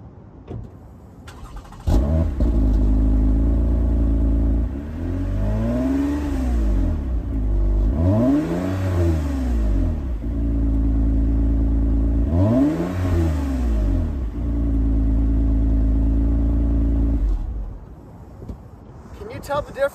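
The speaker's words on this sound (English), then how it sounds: "I want to do an exhaust test so you can see how they sound." A Toyota Camry V6 exhaust starts up, then revs three times in strong rising and falling surges over a deep, steady idle, loud and nearby.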